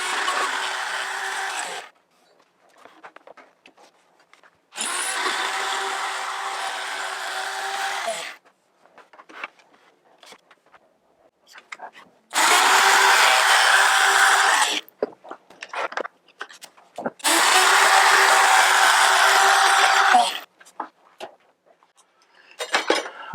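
A router cuts a juice groove into a wooden cutting board in four long, steady passes of loud, even whine, with short gaps of quiet handling and clatter between them.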